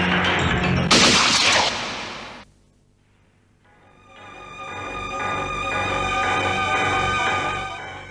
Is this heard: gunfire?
yes